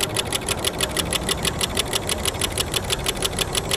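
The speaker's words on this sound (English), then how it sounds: "There's currently no sunlight hitting the engine, and you can see that it's still running." A small solar-heated Stirling engine keeps running on residual heat after its sunlight is cut off, making a steady, rapid mechanical chatter with evenly spaced clicking beats throughout, close and alone.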